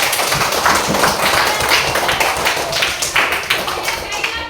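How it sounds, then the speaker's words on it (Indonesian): A classroom group claps together in a dense, steady burst of applause from nearby, lasting a few seconds. "terima kasih Abian, tepuk tangan untuk Abian."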